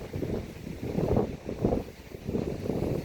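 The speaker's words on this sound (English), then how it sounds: "Wind's picking up a little bit here, guys." Steady wind gusting across the microphone near a beach in La Mata, Spain, a loud continuous rumbling buffet that swells and eases in waves with no voices.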